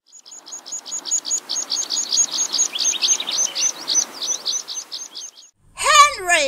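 Sparrows chirp loudly in a quick, steady run of bright, repetitive notes, followed by a brief voice-like swooping sound at the end.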